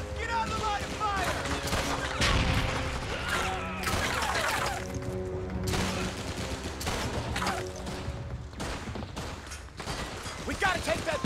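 Dense World War II battlefield gunfire in Call of Duty 2: Big Red One, with rifle and machine-gun bursts, impacts and crashing debris, loud and continuous with soldiers shouting throughout.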